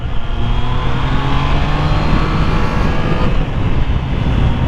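A Triumph Trident 660 three-cylinder motorcycle engine drones steadily and loudly while riding, a continuous smooth hum mixed with wind rush and no pauses.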